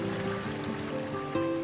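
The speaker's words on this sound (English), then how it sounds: "The constant sound of water, which draws people into the scenery." Water flows constantly through a 13-acre prairie-style garden, a steady, close rushing wash that fills the whole moment with no voices over it.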